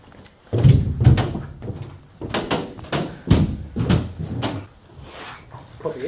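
A small door thuds open and shut a few times, with bumps and knocks, while people talk nearby inside the Chancery Lane deep level bunker.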